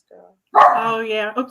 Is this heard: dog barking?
yes